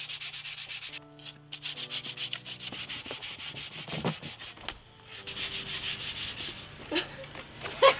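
Wood filler on a vintage suitcase is sanded by hand in rapid, rhythmic back-and-forth scrubbing strokes. The rasping is close and fairly quiet, with short pauses between strokes.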